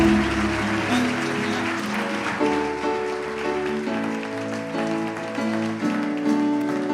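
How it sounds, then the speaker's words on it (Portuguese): A church congregation at a Sunday celebration service claps together under sustained music with held chords, the applause steady and even throughout without a pause. "Você pode aplaudir Jesus bem forte."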